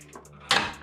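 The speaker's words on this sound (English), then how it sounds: "Get one click on my ratcheting wrench" One click of a ratcheting wrench on a hard-to-reach bolt near a radiator hose, a single short sharp burst standing out briefly against a quiet background.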